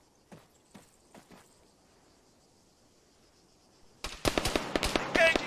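Gunfire at an enemy soldier in ARMA 3: a few faint, spaced shots near the start, then a dense burst of loud, rapid shots close by over the final second and a half.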